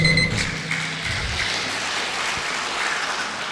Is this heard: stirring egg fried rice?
no